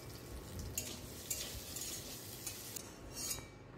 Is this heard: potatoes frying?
yes